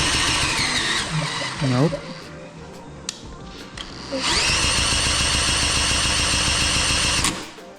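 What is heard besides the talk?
Briggs and Stratton engine being cranked, failing to start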